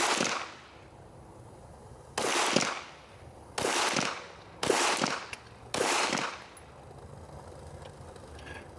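A Canik Rival S pistol firing steel case rounds: five sharp reports spaced about a second apart, each with a loud crack and a short echoing tail, followed by quiet.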